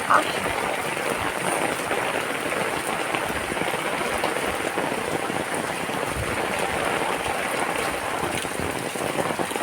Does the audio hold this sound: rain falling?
yes